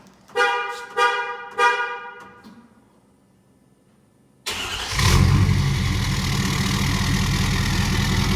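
Three short horn-like honks, then quiet, then a 2017 Ford F-250 6.7 Power Stroke diesel with stainless mufflers roars to life and settles into a loud, deep rumbling idle.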